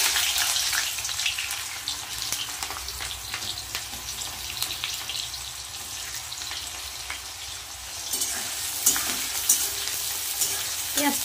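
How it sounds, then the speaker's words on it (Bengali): Chopped onion with black cumin seeds fries in hot oil, a loud close sizzle with bursts of stirring, swelling again near the end. "পেঁয়াজটা হালকা ভাজবো"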